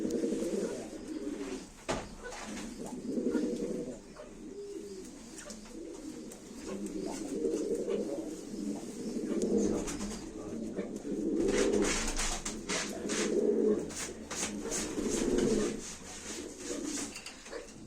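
Tumbler pigeons cooing in repeated low, throaty phrases close by, the soft rolling calls rising and falling in bursts with occasional light rustles and wing or perch sounds, no talking.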